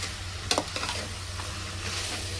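Mushrooms and chopped vegetables sizzle steadily in a hot pan for biryani, with a few close scraping stirs near the start and a continuous frying hiss throughout; no one speaks.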